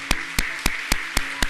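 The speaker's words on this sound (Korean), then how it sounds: "우리 다시 한번 하나님 앞에 영광과 감사의 박수 올려드리기 바랍니다." Church congregation at a Sunday service clapping in a slow, steady rhythm, six sharp, evenly spaced claps in a row with no talking.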